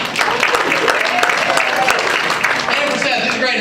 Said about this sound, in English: Give yourself a round of applause for coming out tonight.